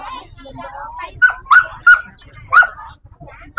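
Dogs at a pet market in Hai Phong bark and yip in a series of sharp, loud bursts, with a whimpering whine between them, while a person talks in the background.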